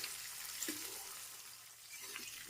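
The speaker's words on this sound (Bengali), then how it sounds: "এবার সবজিগুলোকে নেড়েচেড়ে একটু ভেজে নেব" Chopped vegetables with salt stirred and frying in a pan for a pulao, giving a steady soft sizzle with faint scraping stirs, close and even throughout.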